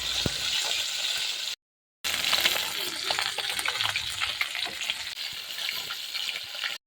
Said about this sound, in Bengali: এখানে মাছটা ভাজা বসিয়ে দিয়েছি দেখো